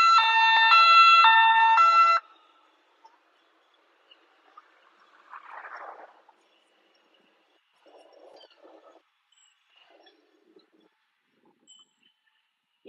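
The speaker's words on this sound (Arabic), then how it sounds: "لا إسعاف يا رب، عربية إسعاف صغيرة" A small ambulance's siren wails briefly with a two-tone electronic pattern during street protests in France, then cuts off, leaving near silence with faint scattered background noises.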